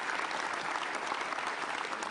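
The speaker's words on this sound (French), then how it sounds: "Applaudissements pour Rosario" An audience at the prize-giving of a French windscreen replacement championship gives a round of applause, a dense, even wash of many hands clapping throughout, moderately close.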